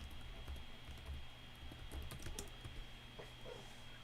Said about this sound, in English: let me just keep typing